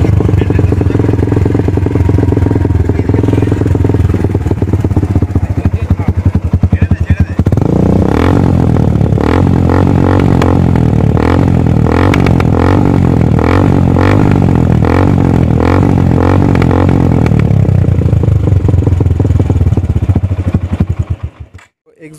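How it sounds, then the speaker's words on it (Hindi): A modified Suzuki Gixxer motorcycle fitted with a loud aftermarket SC Project-style exhaust idles with a deep steady rumble, then revs hard in repeated throttle blips at close range, dropping back before cutting off at the end. "एग्जॉस्ट का नोट आई थिंक आप लोगों को अच्छा लगा होगा."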